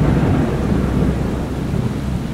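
Heavy rain pours steadily with a deep thunder rumble rolling underneath, a dense unbroken roar throughout with no voices.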